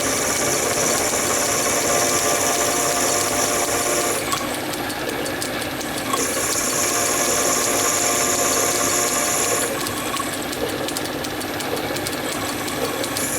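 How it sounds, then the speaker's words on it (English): A drill bores a tap-size hole for a 5/16 by 32 thread in metal with a sharp drill, giving a steady mechanical whir and grinding chatter with high whining tones that cut out and return, no talking. "and I've got a drill there."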